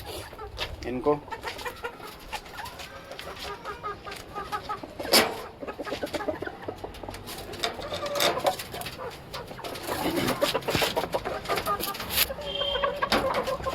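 A rooster and hen cluck and squawk intermittently close by while being fed balls of dough, with a brief spoken word and scattered rustling and farmyard clatter.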